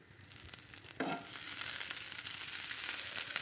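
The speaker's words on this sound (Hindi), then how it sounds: "और अब हम इसमें डालेंगे देसी घी।" Desi ghee hits a hot pan with roti malida and sizzles, a loud, close frying hiss that starts after a few scraping knocks and then settles into a steady crackle to the end.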